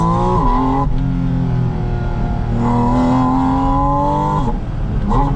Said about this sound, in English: depending upon the level of throttle, it has so many different noises that those intakes produce